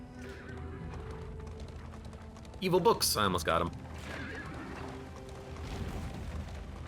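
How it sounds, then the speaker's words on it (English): Horses whinny loudly in the Darkest Dungeon 2 video game, a burst of sharp neighing about a second long over low ambient rumble, with someone talking before and after it. "Whoa, horses, what are you doing? Dumb horses."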